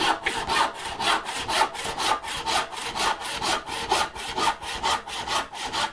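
Hand saw cutting wood for a dovetail half lap joint, with steady back-and-forth rasping strokes, about three per second, close and clear with no talking.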